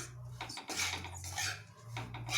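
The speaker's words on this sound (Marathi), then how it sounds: "आपल्याला हे बेसन कंटिन्यू मिक्स करत राहायचे" Besan (gram flour) being stirred continuously while it roasts in a pan, a steady close scraping and rustling against the metal over a low background hum.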